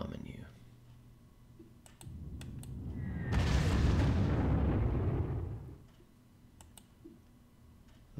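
Bombing attack in the Panzer Corps strategy game: a sustained, loud rumbling blast swells for a couple of seconds amid scattered interface clicks, then fades.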